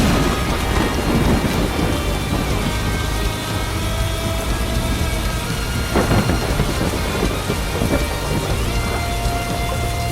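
Steady heavy rain pours down with rolling thunder, a louder crack near the sixth second, in a stormy Friday night scene of the video game Murder Diaries; continuous and dense, with no voices.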